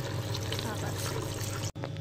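Water poured into a pot of chicken and radish curry after the masala is fried, a continuous close splashing pour with a brief break near the end and no speech.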